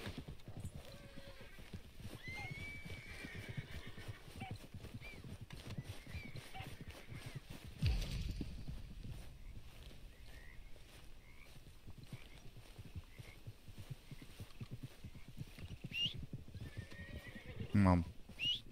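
Wild horses in Red Dead Redemption 2 whinny and neigh amid steady hoofbeats and outdoor ambience, with a louder snort or burst near the end, while someone talks at intervals over the game sound.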